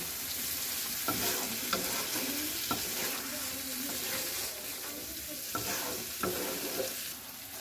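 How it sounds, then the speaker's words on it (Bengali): Boiled meat stirred into hot oil in a pan for masoor dal, a continuous low sizzle punctuated by repeated scraping taps of a spoon against the pan at irregular intervals, close and moderately quiet. "এর মধ্যে ডালে সেদ্ধ করে রাখা মাংসটা দিয়ে দিচ্ছি। এবার ভালো করে আমি এটাকে মিশিয়ে নেব।"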